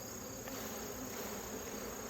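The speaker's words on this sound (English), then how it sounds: "we're just going to flick these bees off like this, and most of them will go back home" Honey bees buzz steadily on a hive frame, a close, continuous, dense hum with no talking.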